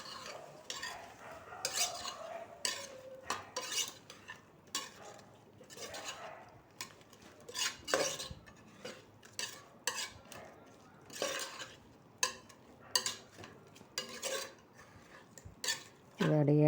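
Three large ripe tomatoes are stirred in a pan, with a spatula clattering and scraping against the metal in irregular bursts over a soft, steady cooking background; no one speaks.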